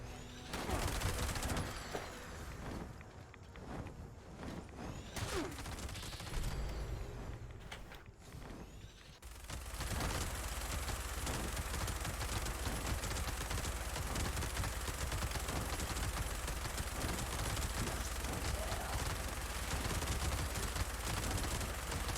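Dense, sustained video-game gunfire from a Fallout 76-style shooter at Level 2148 on PC, with rapid overlapping shots building to a loud, continuous barrage after a patchier opening stretch.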